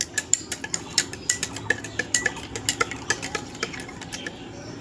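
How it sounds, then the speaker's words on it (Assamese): A knife clinks against a glass over and over while stirring a summer drink, a quick, irregular run of bright taps and scrapes, close and fairly loud with no voices. "এতিয়া চামুচ লোৱা নাই মই চুৰিৰে মিক্স কৰিম"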